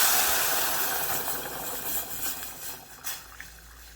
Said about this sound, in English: What we're going to do now is add the water. If you can at first add hot water or boiling water.